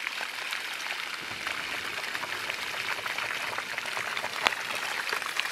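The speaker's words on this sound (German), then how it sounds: "Ein mega Wasserfall." Water drains out of a puddle in a steady, faint, trickling flow with small splashy crackles throughout. There is no speech over it.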